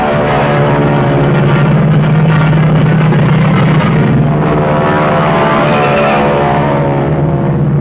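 P-38 Lightning fighter plane engines at full throttle during aerial combat against Zeros at 10,000 feet, a loud continuous propeller drone with a steady low hum that swells slightly midway, alone without voices.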